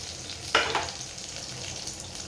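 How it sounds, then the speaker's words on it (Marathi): Garlic and green chilli sautéing in hot oil, a soft continuous sizzle with a brief louder stir burst near the start, then a steady low fry. "लसूण आणि मिरची ते सुद्धा तेलामध्ये परतून घ्यायचं आहे"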